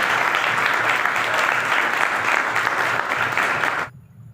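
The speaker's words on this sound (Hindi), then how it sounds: "बचाने वालों के लिए जोरदार तालियां बजाएं" Sustained, dense applause from a church congregation at a Sunday service, steady and loud, then cutting off abruptly near the end.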